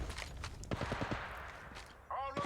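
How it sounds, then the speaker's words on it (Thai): Faint rapid bursts of gunfire from the mobile game Apex Legends Mobile crackle in quick succession, with a voice talking quietly over them. "นี่ไงเสียงปืนไปตรงนั้นแหละ"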